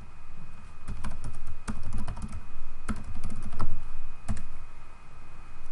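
Typing on a computer keyboard while writing code: quick irregular clicks and keystrokes, close and clear, with a steady low hum behind them.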